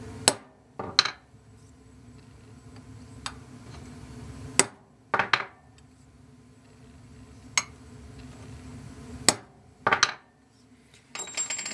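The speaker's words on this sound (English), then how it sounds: "Then I'm going to use a transfer punch to mark all of its mounting holes." A hammer taps a transfer punch to mark a coil mount's holes on metal, producing several sharp metallic strikes in small pairs and singles, close and distinct over a low background hum.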